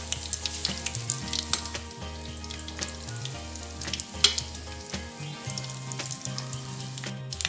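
Bread rolls fry in oil with a loud, close sizzle and bursts of crackle, broken by stirring clinks and scrapes, over a faint tonal hum in the background.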